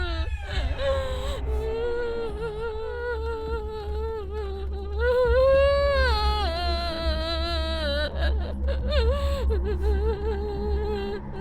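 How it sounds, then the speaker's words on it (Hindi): In a horror film, someone cries and whimpers in wavering, sobbing wails over a low steady hum. The sound is sustained and rises in pitch before trailing off. "रोने की आवाज तो सच में आ रही है।"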